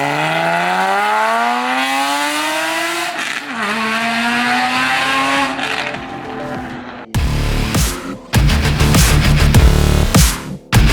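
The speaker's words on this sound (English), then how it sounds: "seeing the launch control on a brand new 992 GT3 RS" Porsche 992 GT3 RS launching on launch control at a night car meet, a loud sustained engine scream rising through the gears, followed by crackling bursts and rumble.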